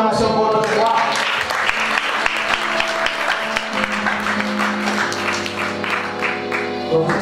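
A church congregation applauds and cheers during an evening service about faith, with clapping spread through the room while sustained music tones play beneath and voices mix in.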